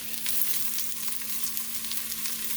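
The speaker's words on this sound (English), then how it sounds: "I'm going to drop me some onion that I have" Onion drops into olive oil heated in a cast iron Dutch oven and sizzles steadily at moderate volume, a close crackling fry with no talk.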